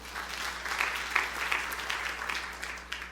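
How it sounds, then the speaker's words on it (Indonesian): A church congregation claps during a sermon, dense and steady applause from many hands, filling the room at moderate volume. "Tepuk tangan yang meriah Tuhan."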